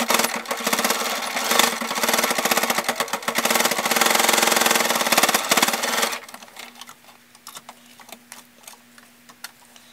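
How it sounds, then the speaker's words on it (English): A sewing machine stitches along the seam of a fabric rice pack with a fast, even mechanical clatter that runs for about six seconds, then stops, leaving a quieter, sparse ticking. "using the edge of your presser foot as a guide, we're just going to stitch evenly along the end of that seam"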